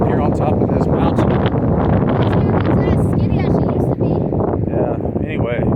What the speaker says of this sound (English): Wind ain't no joke up here on top of this mountain.